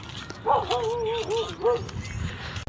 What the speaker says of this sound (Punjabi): ਘਰੇ ਸਾਹਮਣੇ ਕੁੱਤੇ ਫਿਰਦੇ ਬਹੁਤ ਜ਼ਿਆਦਾ